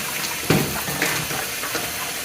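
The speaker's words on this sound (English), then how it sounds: "we're just going to go ahead and rinse this off." A lamb rack is rinsed under running tap water, a close steady splashing stream with a brief louder splash as the meat goes under, and no talking.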